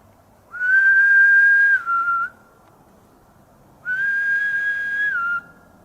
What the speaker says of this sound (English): What was that? A whistle? That's a whistle.